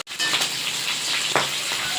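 Mustard seeds, urad dal, chana dal, green and dried red chillies and curry leaves hitting hot oil for a South Indian tempering, a steady close sizzle and crackle with a brief louder pop partway through.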